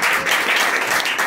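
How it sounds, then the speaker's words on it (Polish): Pub audience at an open-mic comedy night applauding comedian Andrzej, a steady, dense burst of clapping close by that fills the whole moment with no voices over it. "Dajcie mi wielkie brawa"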